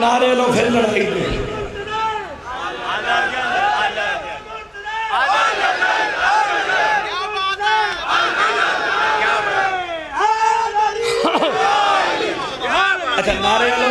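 A large crowd at an imambargah gathering celebrating Imam Zaman chants slogans in loud rhythmic bursts, many voices rising and falling together in repeated waves over about fourteen seconds.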